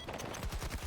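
A turret fires at the player in the video game Battlefield 2042, a rapid, low string of fast repeating shots that sounds muffled and fairly faint throughout this one second.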